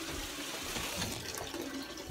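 Tap water running into a bathtub to fill a bath, a steady close rush of flowing water with no talking.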